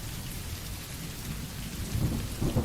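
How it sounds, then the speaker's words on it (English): Heavy rain pours steadily on a surface while low thunder rumbles and swells toward the end, with no voices present. "The rain pounded relentlessly against the windshield, the steady rhythm blending with the thunder that rolled across the darkened sky."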